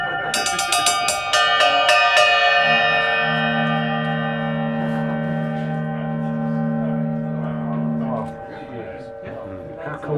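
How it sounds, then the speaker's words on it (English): A Paiste 13-inch heavy bell cymbal is struck hard at the start and keeps ringing with a bright, sustained metallic shimmer and steady tones for the full length, loud and alone, slowly decaying without fading out. "It is a 13-inch heavy bell. Now, this heavy bell cymbal"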